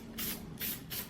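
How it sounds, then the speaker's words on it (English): Three short bursts of Hornady One Shot gun oil sprayed from an aerosol can onto an airgun barrel, each a crisp, close hiss separated by brief pauses. "spray it on, healthy dose, and let it flash over."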